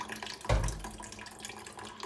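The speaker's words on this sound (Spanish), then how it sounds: "Entonces le echamos agua y así se hace más fácil" Water is poured from a tap over tamarind paste in a strainer for juice, a short steady splash that swells into a louder gush before easing back.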